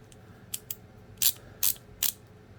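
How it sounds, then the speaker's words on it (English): A basic chrome vanadium ratchet clicks in a series of short, sharp bursts, five quick ratcheting snaps spaced unevenly, close and clear against a quiet background. "It does include a real basic type of ratchet here"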